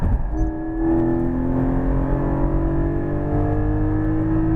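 A Porsche 718 Cayman GT4 accelerates on a racetrack, its engine a loud, steady drone with rising harmonic tones that holds continuously close by, with no talking over it.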